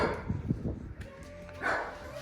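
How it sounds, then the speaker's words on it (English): A dog barks a few times in quick bursts early on, fairly close, with some faint background murmur and clatter. "That dog won't stop barking."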